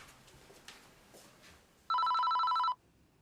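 A telephone gives one short electronic ring burst, clear and bright against a quiet indoor background.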